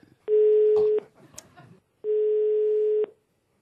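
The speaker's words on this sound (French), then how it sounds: "Ça sonne déjà chez Patrick Cottard à Champigny-sur-Marne" A telephone line rings twice, each a steady buzzing tone lasting about a second, separated by a short gap with faint background noise, heard loud and clear.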